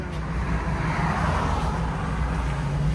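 A 2023 Dodge Challenger 5.7L HEMI V8 with Flowmaster Super 10 exhaust runs close by with a loud, steady, deep rumble that holds without clear pauses.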